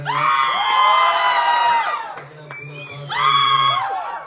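An audience cheers and whoops in loud, voice-like bursts, dipping briefly midway before a second surge of shouting.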